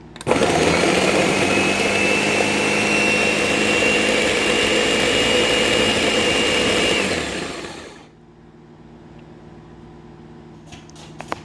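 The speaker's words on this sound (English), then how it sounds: "this blender, it's gonna do its magic" A kitchen blender whirring loudly at steady speed while processing vegan wonton filling, a high sustained motor whine that winds down and stops about three-quarters through, leaving near silence with a few small clicks.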